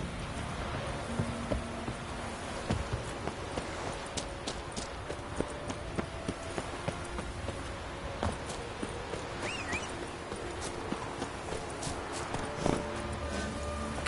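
Horse hooves in The Witcher 3 clip-clopping in a steady walking rhythm, moderately close, with faint ambient outdoor game sounds around them and no speech.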